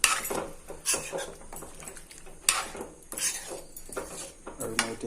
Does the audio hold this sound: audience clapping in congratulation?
no